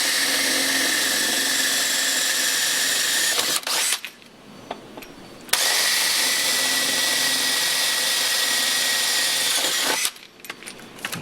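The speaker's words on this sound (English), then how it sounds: "use a 3/16 drill bit." A power drill with a 3/16-inch bit whines loudly in two long bursts while fitting side pipes to a Chevy Corvette, separated by a short quieter pause with small clicks and handling noises.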